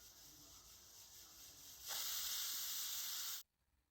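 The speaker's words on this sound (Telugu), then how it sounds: "ఇలా 2 విజిల్స్ అయితే వచ్చేసినాయి." A pressure cooker cooking toor dal lets off a steady hissing steam whistle that swells louder halfway through, then cuts off abruptly into quiet.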